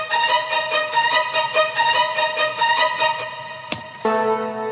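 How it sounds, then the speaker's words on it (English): A bright top violin layer from an electronic dance remix plays rapid rhythmic repeated notes in a dense synthetic texture, then briefly cuts out before a sustained chord enters. "but we had this top violin layer"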